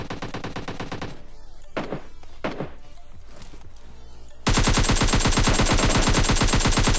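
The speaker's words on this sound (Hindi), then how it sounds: "सामने से कुछ गन साउंड्स आते" Gunfire in a battle royale video game: rapid automatic bursts at the start, a few scattered shots in the middle, then a loud sustained stream of rapid fire.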